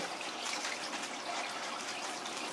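Tap water running steadily into a container while mixing hydroponic nutrients in a greenhouse, a continuous close trickle with no talk.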